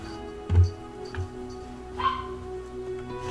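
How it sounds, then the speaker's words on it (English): A pet dog barks and yips a few times in the background, short muffled bursts spaced apart over a steady low hum. "I'm sorry that my dog is barking in the background."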